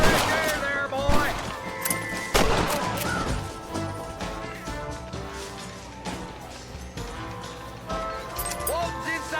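Gunfire in the Red Dead Redemption video game, with rapid volleys of sharp shots scattered across the scene, mixed with crashes, hoofbeats and game music, under talking voices.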